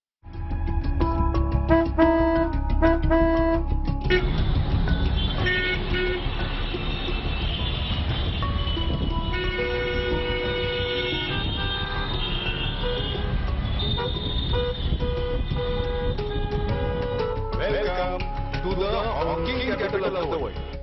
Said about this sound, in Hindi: अनगिनत गाड़ियों से निकलने वाली हॉर्न की आवाज का हमला हर आदमी झेल रहा है